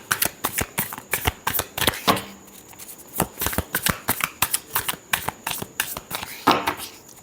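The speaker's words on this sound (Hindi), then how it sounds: "Last shuffle." Tarot cards are shuffled close by in a brisk, steady run of crisp riffling slaps and flutters, each burst sharp and loud, heard on their own without talk.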